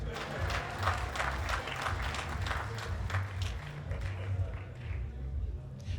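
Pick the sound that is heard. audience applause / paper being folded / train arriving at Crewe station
audience applause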